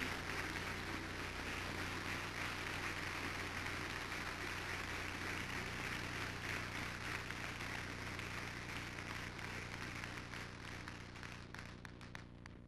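A church congregation applauds together, a sustained, fairly faint wash of many hands clapping that holds steady and then tapers off slightly toward the end.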